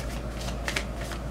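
A deck of Moonology oracle cards is shuffled close up, giving a brief, soft riffling flutter with light papery taps.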